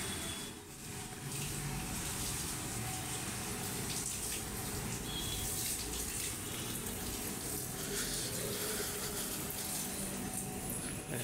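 Tap water runs continuously for washing plates at a communal dining area, a steady close gushing rush with faint background sounds and no pauses.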